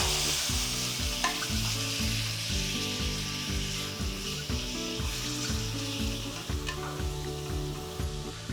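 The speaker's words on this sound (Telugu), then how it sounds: "దీన్ని కొంచెం ఇలా ఫ్రై చేసుకొని మటన్ని ఆయిల్ కొంచెం పైకి వచ్చేదాకా ఫ్రై చేయండి" Mutton coated in ginger garlic paste fries in oil in a pan, a steady loud sizzle broken by repeated scraping strokes as it is stirred, with no talking.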